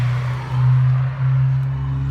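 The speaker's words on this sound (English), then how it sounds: "I'd let these noisy cars pass by." Noisy cars pass by in a village, giving a steady low engine drone and road rumble that swells and eases slightly, close and loud with no voices.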